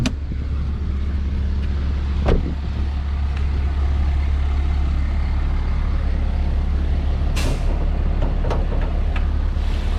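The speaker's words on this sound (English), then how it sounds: "some truck now here with the idling." Nearby truck idling outdoors beside a 2017 Toyota Yaris LE, a loud steady low engine rumble throughout, with a few brief higher hisses and knocks over the drone.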